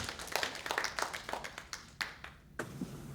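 At a Gen Z leadership panel, scattered clapping from a small group greets a panelist: quiet, uneven individual claps that thin out into a few isolated slaps before stopping.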